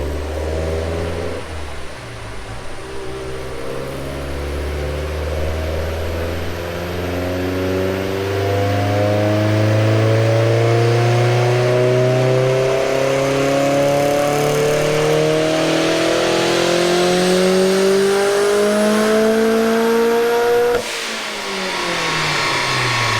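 A turbocharged Mk2 GTI's 1.8T 20v engine with a T70 turbo revs up steadily on a dyno in rising sweeps, loud and close, heard from the back, building to a high roar before cutting off sharply near the end.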